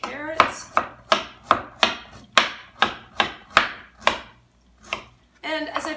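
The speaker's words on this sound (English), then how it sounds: "cutting through my carrots." Knife chopping carrots on a cutting board, about a dozen crisp, evenly spaced cuts close up in a steady rhythm, slowing to a pause before a short burst of other kitchen sound.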